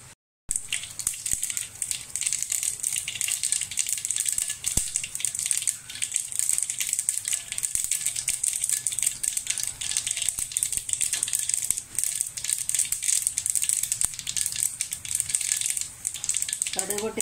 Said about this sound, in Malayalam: കടുക് ഇട്ട് കൊടുക്കുക. കടുക് പൊട്ടിക്കുമ്പോൾ